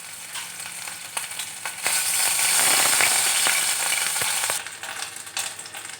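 Ginger-garlic paste dropped into hot oil in a home kitchen, with a sudden loud, close sizzle that swells and holds for a few seconds before easing back to a softer crackle.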